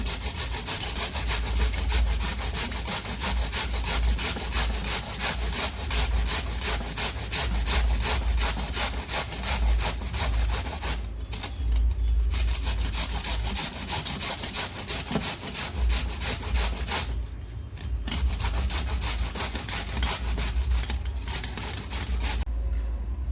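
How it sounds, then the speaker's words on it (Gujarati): Cabbage grated by hand into a bowl, a fast rhythmic rasping scrape repeating steadily and close, with two brief pauses, loud and alone without speech. "તો આ મેં બધી જ કોબીને છીણી લીધી છે"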